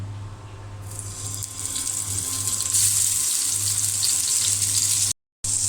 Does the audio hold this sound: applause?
no